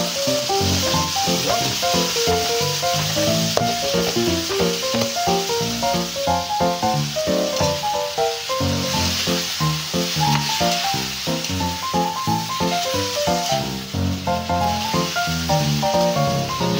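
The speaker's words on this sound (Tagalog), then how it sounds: "Ilagay na natin yung okra natin." Okra frying in a pan gives a loud, steady sizzle with a bright hiss throughout, close up and continuous with a dense crackling texture and no talking.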